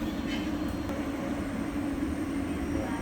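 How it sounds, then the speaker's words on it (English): Thameslink train 732 departing Bickley station, a steady low rumble and hum of the electric train pulling away at moderate distance, with no speech. "Off goes 732 for the 1351 Thameslink service to Seven Oaks"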